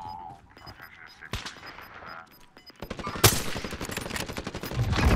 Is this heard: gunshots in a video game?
yes